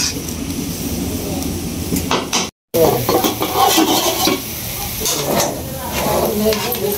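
Malabar spinach goes into a hot wok while broken rice with egg, onion and ginger fries alongside, giving a loud, steady sizzle with stirring scrapes throughout and a brief dropout partway.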